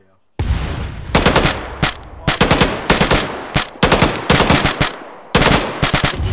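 Machine gun fire in a military video game, loud sustained bursts of rapid shots separated by short pauses, close and harsh.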